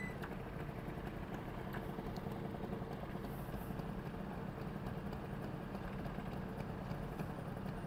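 A Piaggio Zip scooter engine idles steadily while warming up, a constant low hum at moderate distance with no speech.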